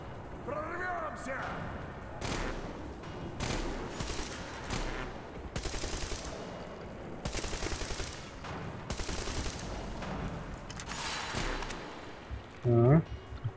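Gunfire in the video game Metro Exodus, repeated bursts of rapid shots and single blasts in uneven clusters, loud and close, with players talking between and under the shooting.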